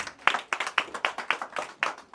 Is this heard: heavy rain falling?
no